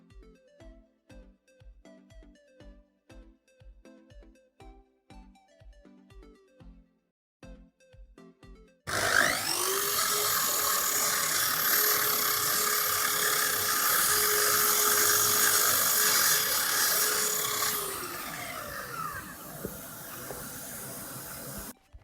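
An axial saw cutting a piece of wood, heard as a loud, sustained high-pitched whine that starts abruptly midway and runs for several seconds, following a stretch of regular light clicks and taps.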